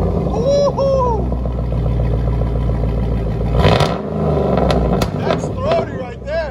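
From inside the cabin, a Chevy Trailblazer with a swapped V8 and Dynamax race bullet mufflers rumbles with a loud, throaty growl that rises into a rev midway, while excited voices talk and whoop over it.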